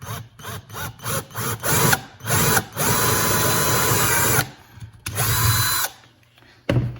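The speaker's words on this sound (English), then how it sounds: "This is a pre-drill." Power drill boring a pre-drill hole for eyelets in a handle sheath on a Swiss military surplus axe, whirring in several short bursts and then a longer steady run, close and loud, with brief pauses between.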